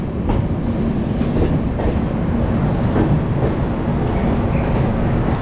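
Chhattisgarh Express pulling into Raipur Junction, heard from inside a first AC coach: a loud, steady rumble of railcars with faint clickety-clack of wheels over joints throughout.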